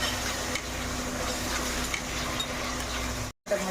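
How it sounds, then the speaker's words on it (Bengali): Mustard paste frying in oil for a rohu fish curry, a dense continuous sizzle with stirring scrapes, broken by a brief silent gap near the end. "সরষে বাটা দিয়ে একটু ভেজে নেবো"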